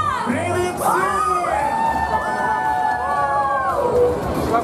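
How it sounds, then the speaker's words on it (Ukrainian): A festival crowd at a rock event in Berdiansk cheers, shouts and whoops under an announcer's voice, with steady crowd noise throughout. "Ваші оплески, друзі!"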